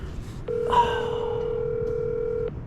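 An outgoing phone call rings back with a steady electronic tone lasting about two seconds, clear and alone with no talking.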